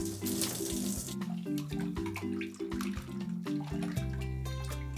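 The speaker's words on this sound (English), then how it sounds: "Rinse all the soap away." Bath water runs steadily in a tub as soap is rinsed away, a continuous close splashing flow with a low tonal hum underneath, no talking.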